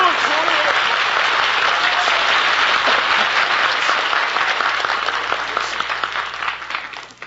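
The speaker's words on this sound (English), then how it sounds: "Here's another big cheer from Hollywood" Studio audience on a Hollywood breakfast radio show bursting into loud, dense applause and cheering that holds strong, then thins and fades toward the end.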